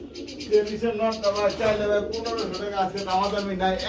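A black Danish male pigeon cooing, a run of close, rhythmic throaty coos layered with talking voices nearby.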